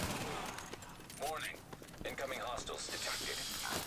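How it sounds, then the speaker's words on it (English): Bursts of SMG fire in The Division, rapid crackling volleys mixed with other gunfire sounds, with someone talking over the shooting. "that's mainly why I'm shooting these dudes with my SMGs"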